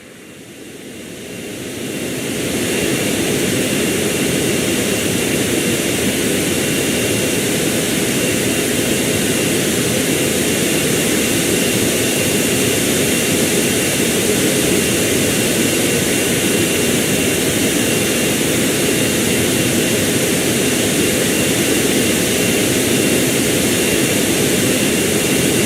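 Aircraft jet engines in the Airport Sim video game build up over a few seconds into a loud, steady, continuous roar that holds unchanged to the end, with no voices.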